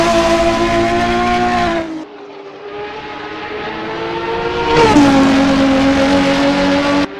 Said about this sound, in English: This is the BMW M1 Turbo for Team Hyperdrive